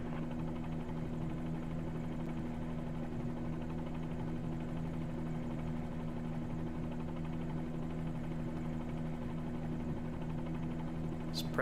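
A Bell 47G helicopter engine in Microsoft Flight Simulator runs steadily throughout, a continuous droning hum with a strong low tonal buzz and a constant rotor-like throb.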